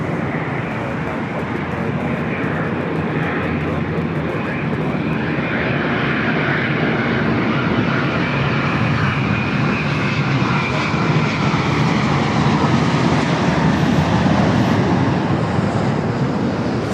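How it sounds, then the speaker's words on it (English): An airliner on Flight 126 from Tokyo Haneda passes at Los Angeles airport, its engine roar steady and broad throughout, loud and sustained with a slowly shifting pitch and some wind buffeting. "Flight 126 coming from Tokyo Haneda"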